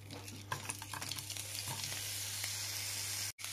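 Julienned onion sizzles in a splash of oil in a pan for pork steaks in sauce with vegetables, a close, steady hiss with a few stirring knocks before the sound cuts out briefly near the end.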